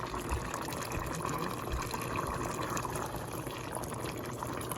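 Canned cream of chicken soup poured over noodles in a home kitchen, a steady liquid fill sound running continuously at close range with no talking.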